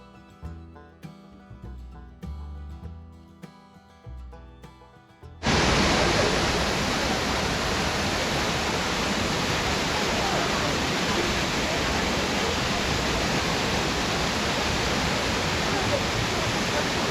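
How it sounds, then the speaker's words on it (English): A waterfall in Wales roars in a steady, loud broadband rush that cuts in abruptly after a few seconds of quieter sound and then holds constant. "to my right you will see the waterfall"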